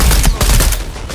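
Rapid machine gun fire in Shadow of the Tomb Raider, a dense burst of gunfire throughout with a few louder blasts standing out.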